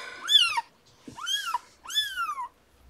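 Three separate kitten meows in close succession, each a clear rising-and-falling cry, near and loud against a quiet background.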